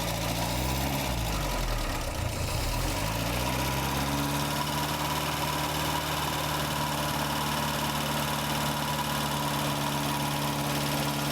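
A 1960 Triumph TR3A engine cranks over with a falling, wavering tone, catches, and settles into a loud, steady idle that runs right up close to the end.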